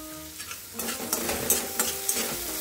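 Boiled potato and sabudana khichdi being stirred in a pan, a series of soft scraping, clattering strokes over a faint sizzle, irregular but steady, close and fairly quiet, with no voices.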